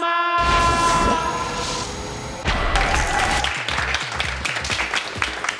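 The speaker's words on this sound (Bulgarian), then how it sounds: "Добре ги изрепетирахме аплодисментите" Rehearsed applause from a studio audience on a Bulgarian talk show fills the room, loud and continuous, with a brief tonal flourish underneath at first before the dense clapping carries on alone.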